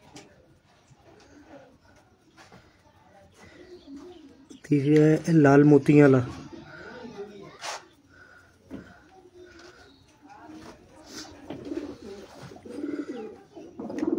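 Pigeons coo in a loft of fancy breeds kept by a pigeon keeper, a close burst of throaty cooing rising midway with scattered chirps around it, while someone talks on and off throughout.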